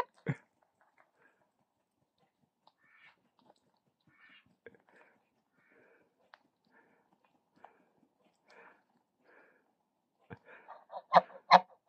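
A white domestic goose gives soft, scattered honks and low murmuring calls, quiet and sparse at first before a louder cluster of honks near the end, all close by.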